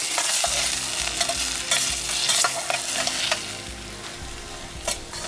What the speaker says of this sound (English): Let's stir our mixture well.